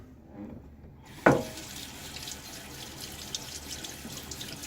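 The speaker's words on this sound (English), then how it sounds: "Washing it off my fingertips," Running water from a tap splashes steadily over fingers, rinsing off shaving soap after a brief knock, a close, continuous rinsing hiss.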